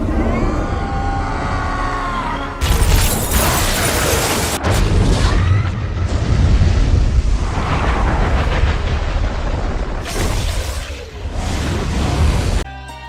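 The Rainbow Bridge explosion from a superhero film: heavy, close booming blasts burst out several times, each followed by rolling rumble and debris-like roar, with brief lulls between the bursts.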